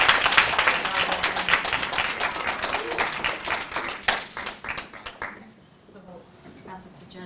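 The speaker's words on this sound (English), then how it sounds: "So please, a round of applause for them too." Round of applause for a youth hackathon team at a judged presentation session: dense clapping from a sizable audience, loud at first and thinning out toward the end, with a voice or two over the fading claps.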